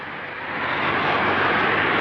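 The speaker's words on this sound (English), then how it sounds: "And we have engine ignition." Soyuz rocket engines igniting for the Progress MS-31 cargo launch, a broad roaring rumble heard from a distance that swells steadily louder over two seconds.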